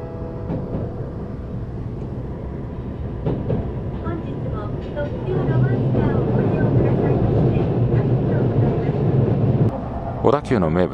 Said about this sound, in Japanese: 小田急の名物はやはりこのロマンスカーですが